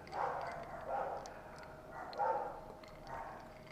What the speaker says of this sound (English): I think the other dogs on our street are upset that Grover got caught.